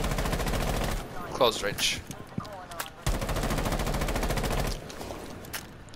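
Gunfire from a weapon on single fire mode in Rainbow Six Siege, rapid evenly spaced shots in two long loud bursts, with someone talking briefly between them.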